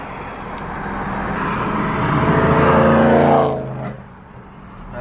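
A BMW E90 M3 approaches with a rising engine roar that swells to a close, loud peak around three seconds, then fades as it passes, with no talking.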